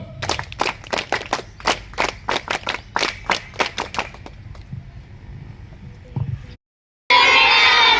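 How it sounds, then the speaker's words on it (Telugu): Audience in a Telugu motivational training session clapping in rhythmic, evenly spaced unison claps, a steady beat of about a dozen hand claps that trails off into scattered claps before a brief silence and a loud noisy burst. "once again claps go"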